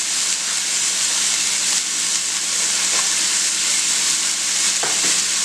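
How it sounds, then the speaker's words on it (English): Onion frying in a pan on high heat gives a steady, loud, close sizzle with a constant hiss, broken by a few faint scraping stirs. "Then we'll get ready to add in our onion. We're going to add our onion first."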